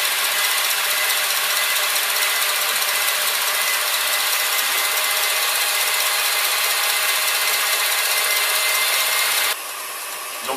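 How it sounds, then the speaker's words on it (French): A stand mixer whips pâte à bombe for a pastry entremets with a loud, steady, broadband whir and rush that holds constant throughout, then drops sharply near the end as the machine slows or stops. "disposez votre pâte à bombe que vous venez de pasteuriser au batteur et vous le montez jusqu'à refroidissement."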